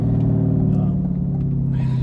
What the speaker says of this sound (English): the Corsa exhaust is the loudest exhaust ever on the planet